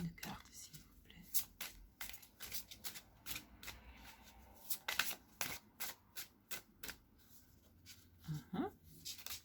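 Tarot cards shuffled and drawn from a deck, close papery riffles and sharp flicks in an irregular run, with soft voices murmuring between the card sounds.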